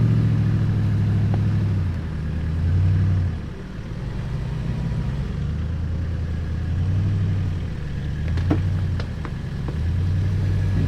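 A vehicle engine idles and rumbles steadily, rising in short surges as it takes up tension on a snatch strap to pull a stuck car free near a beach, with faint clicks late on.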